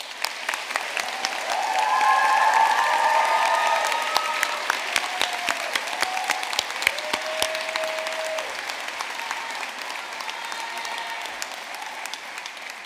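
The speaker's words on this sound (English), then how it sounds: "join me in a round of applause for them" A graduation audience at Ulster University in Belfast gives a sustained round of applause, a broad crackling roar of many hands with a few voices rising through it, swelling early and then holding steady.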